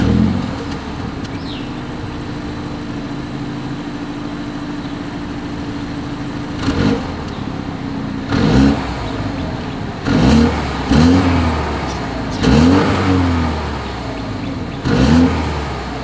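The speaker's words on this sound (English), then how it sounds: "here is that exhaust clip" A 2022 BMW X1 SUV engine idles with a low exhaust rumble, broken by several short throttle blips that rev up and fall back, loud and close.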